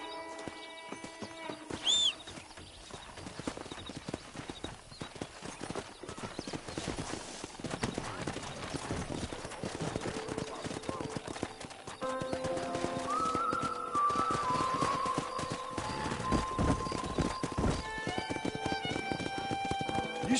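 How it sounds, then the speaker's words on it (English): Horses galloping in the Red Dead Redemption video game, rapid clip-clopping hooves running throughout with a sharp whinny near the start, birdlike tones and game music mixed in, moderately quiet overall. "let's see if we can't wrangle some horses"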